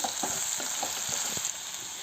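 Garlic pickle frying in a hot pan as roasted, ground asafoetida is stirred in: a steady close sizzle with soft scraping strokes of the spoon repeating through it, no voices.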